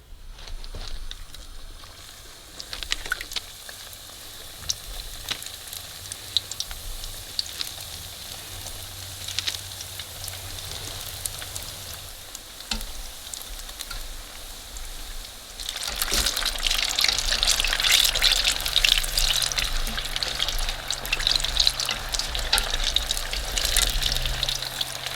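Egg rolls fry in hot oil with a steady crackling sizzle that swells louder and brighter about two-thirds of the way through, heard close and without talk.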